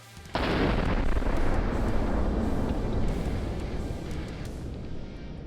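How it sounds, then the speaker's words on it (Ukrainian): A sudden loud explosion during military training in the Carpathian mountains bursts out, followed by a long roaring, rumbling decay that slowly fades over several seconds. "Вибух!"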